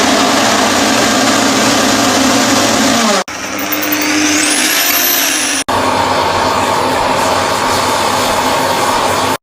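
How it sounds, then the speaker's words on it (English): Up close, a jackhammer breaks through concrete to reach a hidden safe, a loud, harsh, continuous hammering roar that stops briefly twice before starting again. "So our backup plan is a jackhammer."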